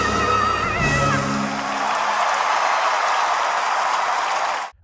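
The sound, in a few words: audience applause and ovation after a Tonys stage performance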